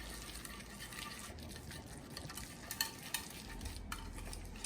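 A spoon stirs tuna salad in a large container, giving a faint, steady wet scraping and mashing that runs continuously, with a few soft knocks, alone and without talk.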